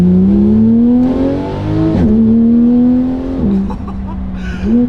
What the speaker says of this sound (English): Now with the JCR titanium exhaust